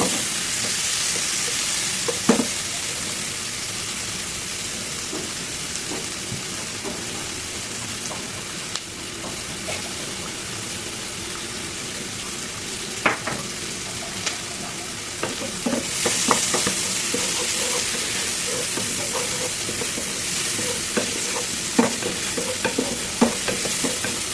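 Onions sizzle steadily in a hot pan while a spoon scrapes and stirs them at irregular intervals, a close, continuous frying hiss with occasional sharper clinks.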